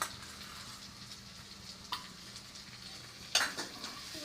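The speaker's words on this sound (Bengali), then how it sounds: "নেড়ে নিচ্ছি।" Eggs, spices and sauce stirred together in a frying pan while making noodles: a steady low sizzle with scraping strokes of a utensil against the pan, one of them sharper and louder, with no talking.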